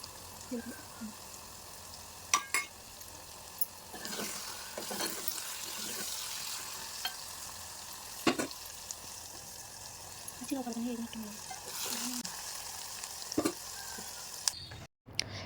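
Ridge gourd and green chillies cooking in a pan with tamarind and cumin, a steady soft sizzle with occasional stirring scrapes and clinks, close and continuous, while a voice talks over it.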